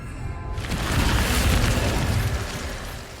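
A fire spell cast in Hogwarts Legacy bursts out as a loud, whooshing blast that swells quickly, then roars steadily for a few seconds before slowly fading.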